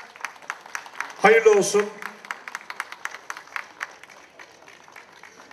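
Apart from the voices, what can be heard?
audience applause at an event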